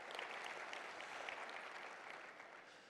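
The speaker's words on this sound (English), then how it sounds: "Let's give him a round of applause." Audience applause for a sponsor at a business pitch competition event, a steady broad wash of many hands clapping, moderately distant and even throughout.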